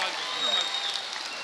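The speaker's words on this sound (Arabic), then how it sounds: "رحبوا بها رحبوا بها صفقوا عليها صفقوا عليها" An audience at a children's show in Blida, Algeria, claps for a girl introduced on stage; dense, even applause fills the short clip, with someone talking over it.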